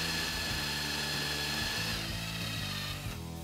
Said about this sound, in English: I will now make 2 holes with a 20 millimeters horsehair bit.